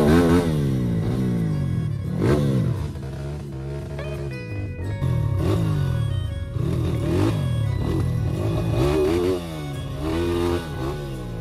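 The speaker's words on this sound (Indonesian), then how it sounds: "Nggak lama, kita papasan sama banyak motor trail yang lagi naik." Several trail motorcycles climbing a steep hill track near Bukit Paniisan, Sentul, their engines revving and rising in pitch as they pass close by, with continuous loud throttle surges and no talk.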